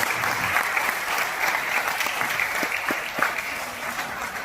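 An auditorium audience applauds children's acting at a Hindi children's festival after stage plays, a steady, moderately loud wash of many hands clapping, with a few distinct claps standing out.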